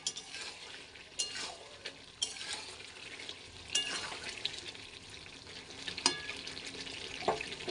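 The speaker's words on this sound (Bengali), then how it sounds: "এবার দিয়ে দিব ভেজে রাখা আলুগুলো দিয়ে দিচ্ছি। মশলাটাও ঢুকে যাবে" Fried potatoes being stirred into a masala in a pan while making chicken curry with potatoes and yogurt, giving a soft, steady sizzle with scraping spatula strokes and a few sharper clinks against the pan.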